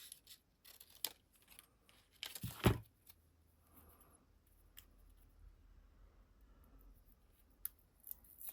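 Scissors cutting paper pieces for a handmade zine, a few quiet snips and rustles with one louder close cut partway through, sparse and intermittent amid a quiet room.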